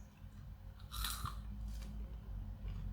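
Someone bites into a freshly baked traditional German soft pretzel. The crust gives a single short, crisp crunch, followed by a little quiet chewing close up.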